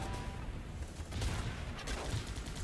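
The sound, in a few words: gunfire shooting barrels in the video game Guns Up!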